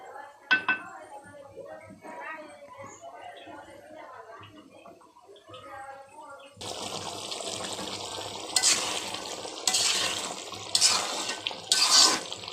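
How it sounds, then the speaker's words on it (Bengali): A voice talks softly at first, then a pan sizzles with bursts of scraping as thick pickle is stirred in repeated strokes until its water dries off. "পানিটা যতক্ষণ না শুকাবে ততক্ষণ আপনি এভাবে নাড়তে থাকবেন"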